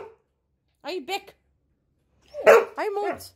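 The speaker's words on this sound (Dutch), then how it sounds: "Nee, stoppen met blaffen." A dog barks close by in two bursts, first two sharp barks, then a louder cluster of barks with whiny, yelping edges. There is silence between the bursts.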